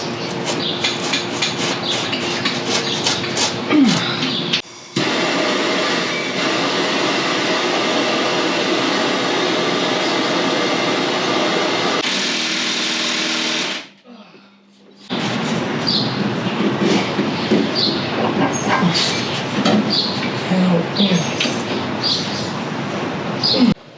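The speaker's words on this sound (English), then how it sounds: "I'm using some extensions so I can fit my impact in here without hitting the skid plate." An impact wrench on extensions hammers at a T55 Torx bolt on a Jeep TJ Dana 44 rear axle, loud sustained rattling bursts up close, broken by a brief pause and then more rattling.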